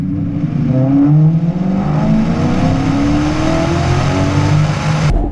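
A Maserati GranTurismo MC's engine revs up and down in rising and falling sweeps, a loud, close, continuous roar with smooth climbing tones, running alone before cutting off sharply near the end.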